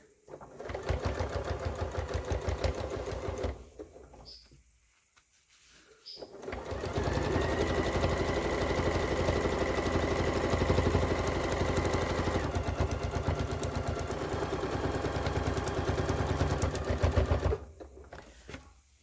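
A sewing machine stitches thick fabric scraps into washable paper towels. It runs close and loud with a fast steady chatter in two long runs, separated by a brief quiet pause and a few clicks.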